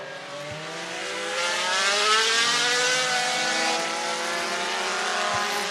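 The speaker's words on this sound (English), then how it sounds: "The B56 car out on the racetrack." Race car engines roar around the dirt oval at I-75 Raceway in Niota, Tennessee, a steady loud drone with rising and falling revs as cars circle, swelling midway then holding.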